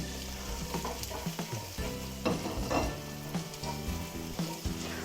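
Garlic and mint fry in a pan while being stirred, giving a loud, continuous sizzle broken by scraping and clacking strokes from the utensil, close and clear with no talking.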